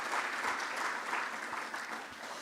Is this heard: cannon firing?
no